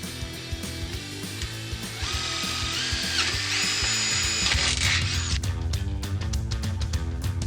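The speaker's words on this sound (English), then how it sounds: "You want to pre-drill right into that rib." Power drill boring into an aluminum handrail top rail up close, a steady whirring motor with rising and falling pitch as the bit bites, ending in ratcheting clicks.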